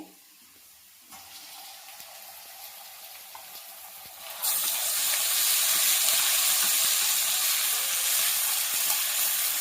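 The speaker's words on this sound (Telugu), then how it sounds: "పేస్ట్ కూడా మంచిగా ఫ్రై అయింది కదా" Ginger garlic paste frying in a pan for an ivy gourd masala curry: a steady, close hiss of sizzling oil that jumps noticeably louder partway through and stays bright to the end, with no talking.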